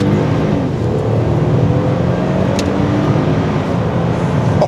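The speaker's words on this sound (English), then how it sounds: "Wow, that's a fast car." A car roars past close by, its engine noise loud and steady throughout, with a brief higher whine in the middle.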